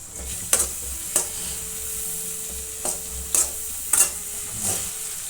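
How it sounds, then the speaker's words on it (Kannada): Chopped onions fry in melted butter in a pan for paneer butter masala, giving a steady close sizzle broken by several sharp scraping and clattering stirs, with no talking. "ಒಂದೊಂದು ಈರುಳ್ಳಿ ಸಣ್ಣಗೆ ಹಚ್ಚಿ ಹಾಕ್ತಾಯಿದ್ದೀನಿ."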